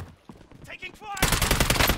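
Gunfire in the Warzone battle royale video game, a dense loud burst of automatic shots erupting after a second of quieter clicks and faint voices.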